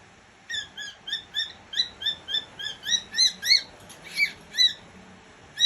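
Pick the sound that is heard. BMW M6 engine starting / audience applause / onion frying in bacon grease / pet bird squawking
pet bird squawking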